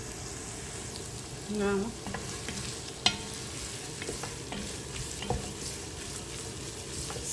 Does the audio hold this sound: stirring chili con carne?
yes